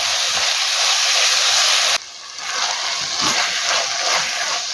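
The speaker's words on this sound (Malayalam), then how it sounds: "ഇത് നന്നായിട്ടൊന്ന് വഴറ്റിയെടുക്കണം" Chopped tomatoes dropped into a hot pan for a fried chicken biriyani, a loud hissing sizzle that dips abruptly midway and then rises again into a steady, slightly uneven sputter, close up with no talk.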